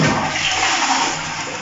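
Water rushes steadily into a toilet tank fed by a water pump, with the tank filling slowly due to a fault, a continuous hissing flow close by with no voices.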